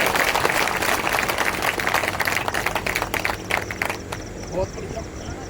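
Political rally audience at a BJP membership drive event in Bamori breaking into a dense burst of clapping, loud and close, fading out after a few seconds.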